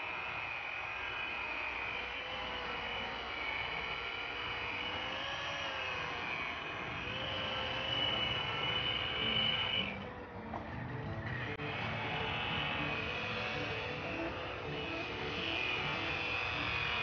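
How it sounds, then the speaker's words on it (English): A buffing machine spins a 10-inch, 60-ply cotton wheel loaded with white chrome rouge against an aluminum wheel, giving a loud, steady whirring grind that holds for the whole stretch with one brief dip midway. "He's using a 10-inch 60-ply cotton wheel with the white chrome rouge"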